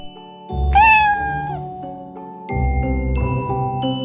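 A cat gives one clear, rising meow close up, heard over light, cheerful children's music.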